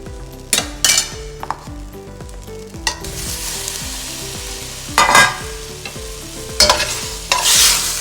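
Paneer fries in a pan with a continuous sizzle, while a utensil scrapes and clinks against the metal in several sharp bursts over steady background music.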